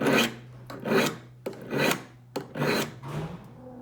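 A hand scraper bites into wood in four or five rhythmic rasping strokes, each a close, crisp scrape with short pauses between.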